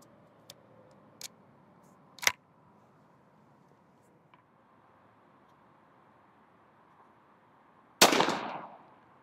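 A .410 CVA Scout shotgun with a Kicks choke fires a Viper TSS turkey load outdoors: one loud, close blast with a short fading tail, after a few faint clicks in near silence.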